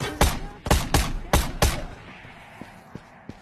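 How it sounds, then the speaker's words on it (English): Five sharp gunshots ring out in quick, uneven succession in the VR shooter Ghosts of Tabor, loud and close, then a few faint distant pops follow over a quiet background. "Who's shooting?"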